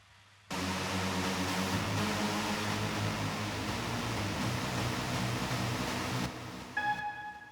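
A dense, sustained Alchemy Trance Lead Designer synth swarm preset fills the mix with a thick, broadband wash of layered tones for about six seconds, then cuts off, leaving a brief bright tonal tail.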